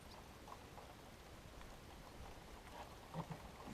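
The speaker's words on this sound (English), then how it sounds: "And here comes all that fantastic rain I was talking about" Steady rain falls across an outdoor work area during car repairs, a constant dense hiss of drops with a few louder splashes and taps near the end.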